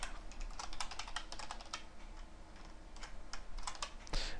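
Fast, steady typing on a computer keyboard, with close, crisp key clicks in quick irregular bursts and a heavier keystroke near the end.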